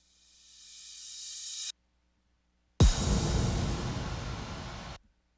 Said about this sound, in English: And leading up to it, I had this crash in reverse.